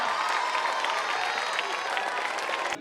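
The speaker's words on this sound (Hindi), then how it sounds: "एक बार जोरदार तालियां हो जाए।" Loud, sustained applause from a large crowd at a school alumni meet, steady clapping filling the room before cutting off abruptly at the end.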